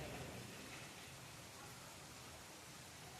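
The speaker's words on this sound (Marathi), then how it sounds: "आज किती पाऊस यायला लागला तुम्हाला दाखवते मी" Constant heavy rain roaring evenly throughout, a thick wash of noise with no talking.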